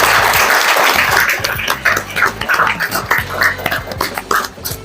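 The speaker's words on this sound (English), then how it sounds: "let's give them a round of applause" Audience applause for the parents at a Gavel Club graduation ceremony, loud crowded clapping with some cheering that swells and then thins unevenly, heard close.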